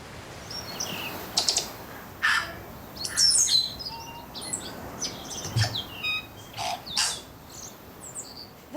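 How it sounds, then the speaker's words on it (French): A tui, a bird found only in New Zealand, sings in forest: varied whistles, clicks and squeaky chirps come in scattered bursts against a soft, constant background hiss. "C'est un tui, un oiseau endémique de la Nouvelle-Zélande."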